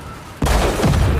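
A car explodes in a film action scene after gunfire, landing as a sudden loud boom after a quieter lead-in and then rumbling on with a second burst.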